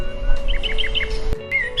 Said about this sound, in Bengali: জঙ্গলের শান্ত পরিবেশ তারপর আবার পাখিদের কিচিরমিচির গানে বনের সৌন্দর্য